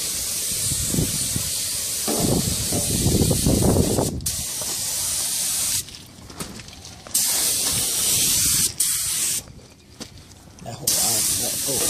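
A paint spray gun hisses loudly and continuously while spraying a trailer, in long bursts broken by brief pauses, close to the microphone.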